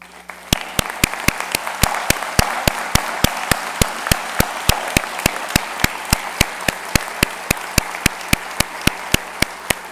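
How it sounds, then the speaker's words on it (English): Audience applause at a College of Optometry graduation ceremony, a dense, even burst of clapping that carries on for about ten seconds, with sharp, regular claps standing out near the microphone over the crowd. "please stand and receive our applause and heartfelt appreciation for your service"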